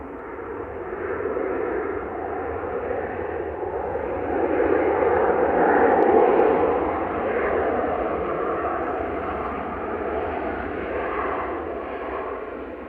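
Airliner arriving from Gothenburg touching down at Manchester Airport, a broad continuous engine roar and rush building to a loud peak midway and then easing off, steady and fairly close with wind in the background.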